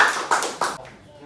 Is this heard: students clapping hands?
yes